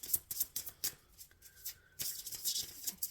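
Tarot cards are shuffled in quick riffling bursts, crisp and close, with short pauses between rounds and no talking.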